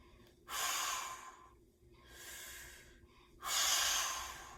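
Deep exercise breathing during a shoulder and shoulder-blade workout: three strong, breathy exhale and inhale bursts, close and fairly loud, separated by short quiet gaps.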